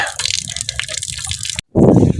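Water gushing and splashing from a tap, loud and close, with a brief break before the flow resumes more heavily.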